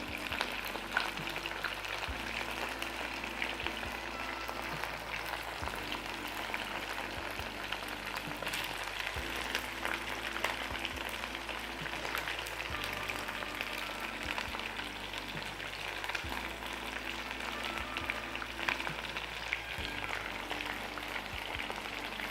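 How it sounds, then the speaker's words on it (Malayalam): Chicken pieces for Dragon Chicken frying in hot oil, a steady dense crackle and sizzle heard close up without pause, with faint periodic stirring knocks underneath. "ചിക്കൻ ചെറിയ പൊട്ടലും കീറ്റലും ഒക്കെ കേൾക്കാം നമുക്കിവിടെ."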